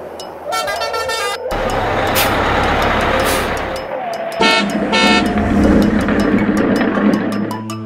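A bus horn blares in a harmonic honk, then a heavy engine rumbles before another pair of short horn blasts rises over continuing traffic noise and faint voices.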